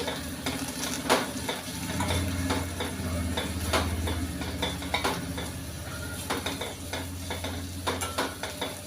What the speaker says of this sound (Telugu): మధ్య మధ్యలో కలుపుకుంటూ మూత పెట్టుకొని వేయించుకోవాలి దొండకాయలు బాగా వేగినంత వరకు అలా వేయించుకోవాలన్నమాట